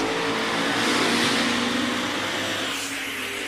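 A drag racing car, driven by Scott Thompson, accelerating hard down the strip, a loud sustained engine roar that stays close and steady before easing slightly toward the end.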